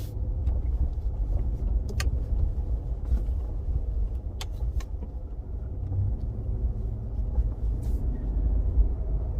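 A 2022 RAM 1500 Limited pickup truck cruising, a steady low cabin rumble of engine and road with a few small clicks and creaks and no talking.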